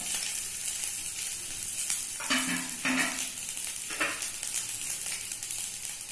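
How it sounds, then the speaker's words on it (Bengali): Vegetables fry in a pan for a veg Moghlai dish, a constant close sizzle broken by a few louder scraping stirs near the middle, with no one speaking. "এখানে দেখতেই পাচ্ছেন এটা হালকা ফ্রাই হয়ে গেছে"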